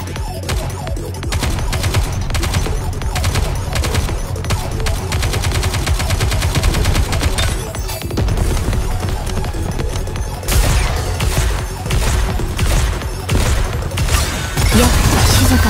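Dense, continuous volleys of gunfire from the mobile shooter game Nikke: Goddess of Victory, loud and sustained throughout with rapid bursts layered over booming impacts and a pounding game soundtrack.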